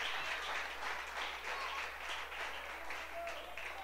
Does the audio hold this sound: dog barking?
no